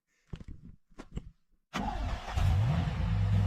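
A turbocharged Chevrolet Camaro engine starts abruptly after a few short knocks, then holds a loud, steady rumble with a rising whine as it settles near.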